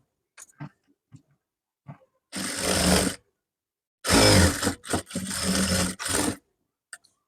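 A sewing machine stitches the side seam of a garment, running in loud, close whirring bursts of about a second each, with short pauses and faint handling clicks between them.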